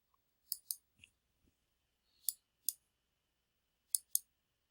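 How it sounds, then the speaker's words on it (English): Computer mouse clicks while working in Excel, heard as sharp, close clicks in pairs spread over a few seconds in an otherwise quiet room. "Right click."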